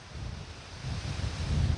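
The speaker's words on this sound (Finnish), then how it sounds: "nyt on vähän viileä ja tuulinen" Cool wind blows across an open field of mustard, oil radish and phacelia in late summer, a steady rushing buffet on the microphone that swells louder toward the end.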